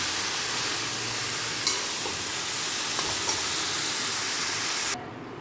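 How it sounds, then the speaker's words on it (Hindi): Bottle gourd frying with spices in a pan over a low flame, giving a steady, close sizzle with a few faint stirring scrapes and no talking, until the sound drops off sharply near the end. "इसमें मसाला डाल के एक मिनट भून लूँगी धीमी आंच पे। लौकी भी डाल के चला लूँगी।"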